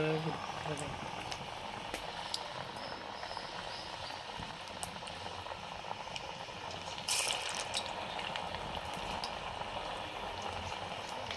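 A village pot of food bubbling in boiling water, patted pieces cooking until done, with a steady broadband simmer throughout and a brief louder burst near the middle; no one speaks.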